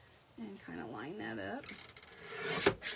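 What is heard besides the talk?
paper cutter trimming card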